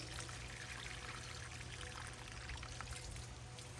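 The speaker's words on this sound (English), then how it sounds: "now I'm going to give them a little bit of liquid fertilizer" Liquid fertilizer pours steadily onto potted pepper seedlings, a continuous close splashing trickle that holds an even level throughout with no voices.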